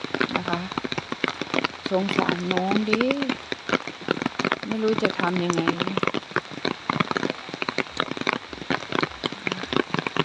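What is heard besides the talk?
heavy rain falling during a storm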